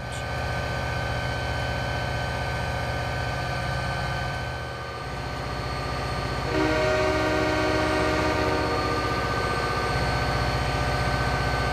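A diesel locomotive engine in a Donner Pass train simulator route drones steadily throughout, with a sustained horn blast joining partway through, loud and close, with no talking.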